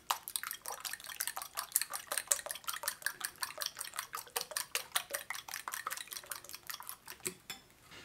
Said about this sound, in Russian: Все это взобью.